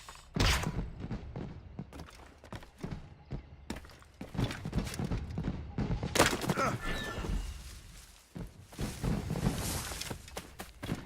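Scattered shots from an air rifle in Assassin's Creed Rogue, irregular sharp cracks and thuds spread across a noisy scene, some close and loud, others fainter, with voices at times.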